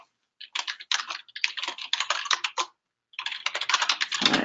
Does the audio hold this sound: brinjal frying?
no